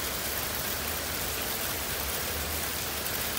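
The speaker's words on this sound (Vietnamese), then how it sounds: "Ban đêm á, mà mình nghe cái tiếng mưa này ngủ rất là ngon giấc luôn các bạn." Rain mixed with hail pouring down outdoors in California, a dense, steady hiss of drops that holds at an even level throughout, with no voices.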